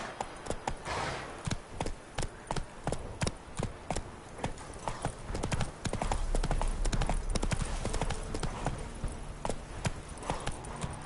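Roach the horse gallops in The Witcher 3, with a fast, steady clip-clop of hooves close by throughout and a rushing ground noise building toward the end.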